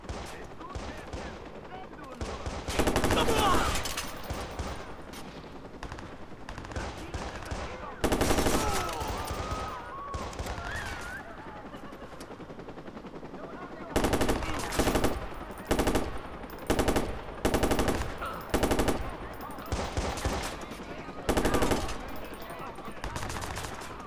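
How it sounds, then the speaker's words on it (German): Enemies fire bursts of automatic gunfire in the video game Watch Dogs, sharp repeated volleys that come in several clusters, the loudest around the middle and later, with quieter game sounds between them. "der da hinten schießt auf mich"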